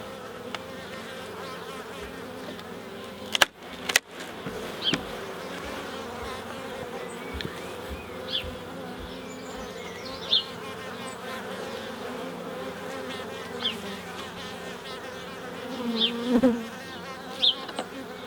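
Many honeybees hum in a steady, close buzz, with occasional clicks and knocks breaking through the continuous drone.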